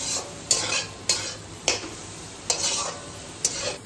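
Chicken pieces sizzle with black pepper in a pan while being stirred, a soft steady frying hiss broken by about six scraping stir strokes at regular intervals, close and fairly quiet with no talking.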